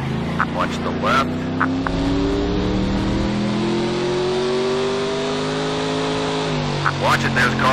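Stock car engines from NASCAR 09 on Xbox 360 drone and rise in pitch as cars accelerate and run side by side, a loud continuous roar with shifting tones as they pass.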